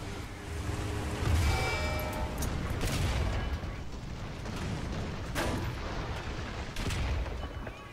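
Heavy, booming gunfire rumbles continuously with repeated blasts and mechanical clatter, a dense stretch of tank cannon and weapon fire from War Thunder ground battles with M4A1, M6A1 and M4A3E2 tanks.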